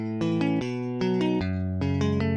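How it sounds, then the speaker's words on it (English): A chord progression of plain root-position triads, several sustained chords changing every half second or so, played cleanly and alone with an even, steady level. "If they were normal triads, it'd sound something like this"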